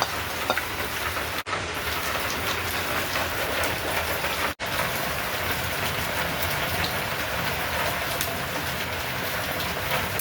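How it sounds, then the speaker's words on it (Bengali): Hot oil tempering poured into a lentil and bottle gourd dal crackles with a loud, steady, dense sizzle that lasts the whole time, with only two brief breaks. "এখন আমি তেলটা ডাইলে ঢেলে দিব, বাগারটা দিয়ে নিলাম।"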